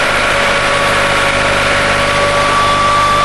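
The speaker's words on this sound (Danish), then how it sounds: "Halmmølle" AM110T tractor-driven straw mill running, a loud, steady mechanical drone with a constant whine and broadband roar, no variation and no voices.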